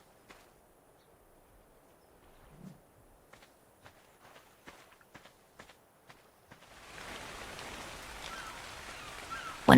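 Rain begins in the Ark survival game: after scattered soft footsteps and light taps, a steady hiss of rainfall sets in and holds for the last few seconds.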